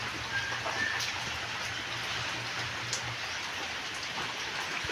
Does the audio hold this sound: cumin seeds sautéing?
no